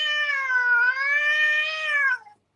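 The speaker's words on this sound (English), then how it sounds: "He still meows like a child." A cat gives one long, clear, drawn-out meow, close and loud, with a slight dip in pitch midway before trailing off into silence.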